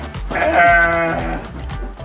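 A Garut sheep bleats once, loud and close, a long wavering nasal cry lasting over a second on a farm.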